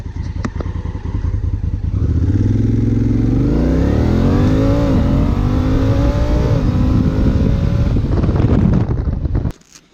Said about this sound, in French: maintenant on se retrouve pour faire le 0 à 100 de l'Africa Twin